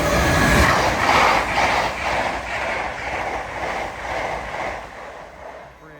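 A King's Cross to Cambridge train led by Class 87 electric locomotive 87102 passing Alexandra Palace on the East Coast Main Line, a loud close rumble with rhythmic wheel beats over rail joints, fading toward the end.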